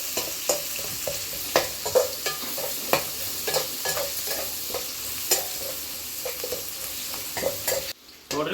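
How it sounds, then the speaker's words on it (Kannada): Onions fry in a pan for a vegetable stir-fry, a constant sizzle broken by frequent rhythmic scrapes and clacks of a spoon stirring, close and fairly loud, ending in a brief dropout; no talking. "ಈಗ ನಾವು ಏನು ಹಾಕ್ತೀವಿ, ಉಳ್ಳಾಗಡ್ಡೆ ಹಾಕ್ತೀವಿ."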